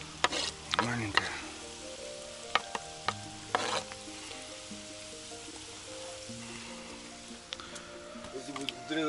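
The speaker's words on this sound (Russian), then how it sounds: "Неудобно мешать. Сковородочка-то небольшая у меня." Potatoes fry and get stirred in a small frying pan inside a tent, a steady soft sizzle broken by scraping stir strokes and clinks, with people talking now and then.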